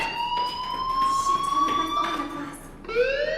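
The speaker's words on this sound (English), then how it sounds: "do you hear that fire alarm? That means you should be outside." A shrill electronic fire alarm in a video game whoops continuously, its tone gliding upward, with a rising sweep at the end over background noise.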